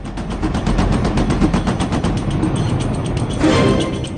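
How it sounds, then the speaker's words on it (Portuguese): A long, sustained burst of automatic gunfire fired as a wall of fire against a glowing globe, loud and continuous with rapid rattling shots running unbroken for about four seconds, no voices. "Soltei uma rajada longa de 34 tiros."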